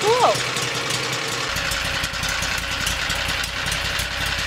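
A homemade skid steer's small engine idles steadily at close range, a constant low rumble with a brief higher sweep right at the start, with no vibration.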